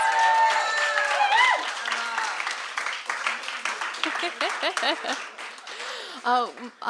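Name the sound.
audience applause for author Emma Steinkellner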